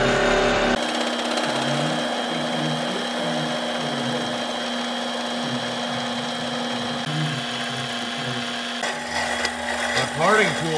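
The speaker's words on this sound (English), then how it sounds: "I'm gonna throw these on the lathe and see if I can turn some decent looking round stock out of these." Lathe turning melted copper into round stock, a steady loud mechanical whir with grinding, rubbing cutting noise throughout and a changing scrape near the end.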